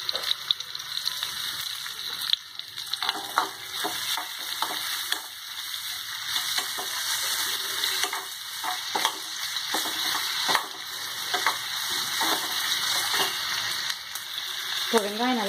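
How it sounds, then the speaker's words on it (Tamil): Onions sautéing in oil for tomato chutney, a steady close sizzle with intermittent spoon stirs and scrapes throughout, a brief voice near the end. "இப்போ வெங்காயம் நல்லா வதங்கிடுச்சு"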